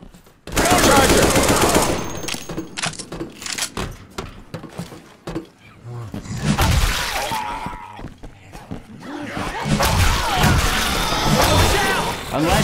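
Bursts of automatic gunfire and heavy impacts from the zombie shooter Left 4 Dead 2, loud and close, with long rapid volleys separated by short lulls.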